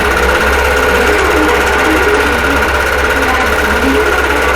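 A quilting sewing machine stitches a Crown of Thorns fanfare-block quilt, its motor running continuously with a loud, steady whirring buzz and rapid needle rattle throughout.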